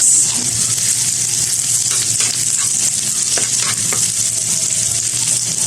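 Onions fry in a pan for chicken liver adobo, giving a loud, constant sizzle from start to finish, with faint scraping as they are mixed; close up and without voices.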